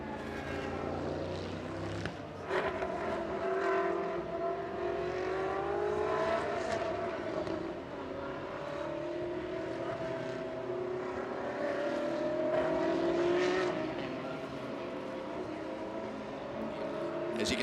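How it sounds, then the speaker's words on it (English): Touring race cars of the TCR Asia series at Sepang dive into pit lane in heavy rain under a safety car, engines droning steadily at mid distance with shifting pitch, under continuous commentary. "As you can see, drivers all diving now into pit lane."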